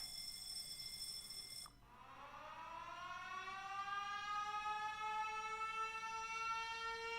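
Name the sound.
siren alarm sound from the video game Factorio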